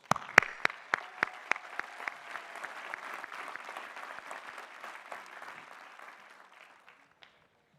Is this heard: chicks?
no